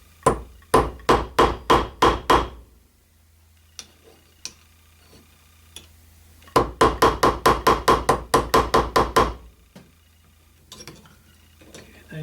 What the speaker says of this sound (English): line it up using the big hammer, which is this is 24-ounce hammer